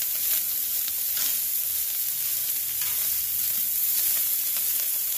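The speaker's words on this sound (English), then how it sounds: "we're gonna do a little pastrami on here, so I'm adding a little oil. We're just gonna warm it up on the grill." Pastrami warming in a little oil on a flat grill, on the same buttery spot where buns were browned, sizzles steadily and fairly loudly throughout with a soft crackle and no talking.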